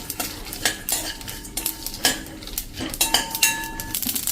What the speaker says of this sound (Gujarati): હવે આપણે 1 ટેબલ સ્પૂન જેવા તલ નાખીને અને આને પાછું અડધી મિનિટ જેવું રોસ્ટ કરશું